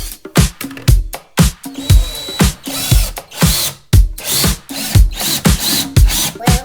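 A power drill drives fasteners to mount a fixture on a kitchen wall during a DIY 1990s kitchen makeover; repeated short, close whirring bursts with brief pauses between them, with no talk.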